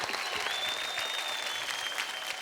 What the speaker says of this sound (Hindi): जोरदार तालियां हो जाए इन 12 डांसिंग स्टार्स के लिए।